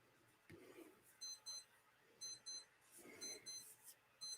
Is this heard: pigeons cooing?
no